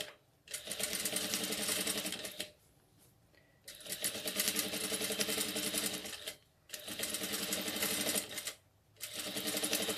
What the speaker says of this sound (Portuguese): a gente passa um alinhavo, ó, por toda a minha faixa